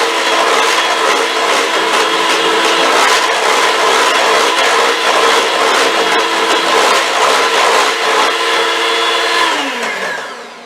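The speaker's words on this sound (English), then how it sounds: "now let me just mix the cake one more time on high" Electric mixer beating cake batter on high speed, a loud, steady whirring motor drone that holds evenly, then winds down in pitch and fades as it switches off at the end.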